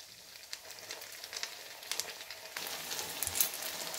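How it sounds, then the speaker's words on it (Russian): Syrniki, cottage cheese pancakes, fry in a pan with a soft, steady sizzle and scattered crackling pops, fairly quiet and close, with no voices. "Сырники с одной стороны обжарились, и я их аккуратно переворачиваю."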